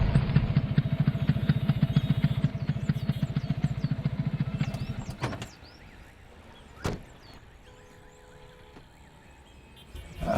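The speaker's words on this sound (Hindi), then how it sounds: "हम बाइक पे आ रहे हैं, चलो।" Motorcycle engine idling in a rough, rapid throb that cuts off about halfway, followed by quiet with a thud and faint background noise.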